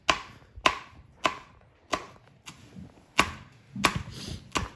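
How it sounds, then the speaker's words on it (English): Knife chopping washed green chilli into little pieces on a board, a series of about eight sharp, close, fairly loud chops at an uneven, unhurried rhythm with no talking. "the spice comes from the green chilli, which, having washed, I'm going to chop into little pieces."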